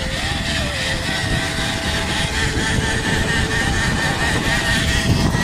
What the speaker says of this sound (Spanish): Tenemos moto el día de hoy.